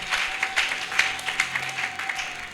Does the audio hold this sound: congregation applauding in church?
yes